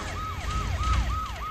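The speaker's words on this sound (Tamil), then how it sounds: "சைரன் அலறுது பாரு. கேக்குதா?" An emergency siren wails in a fast, repeating up-and-down sweep, loud and steady over low traffic rumble, with no talking.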